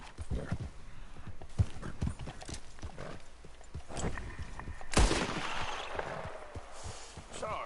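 Horse hooves clop steadily through Red Dead Redemption 2 gameplay, a brisk galloping rhythm with a brief whinny and scattered gunfire-like bangs in the mix.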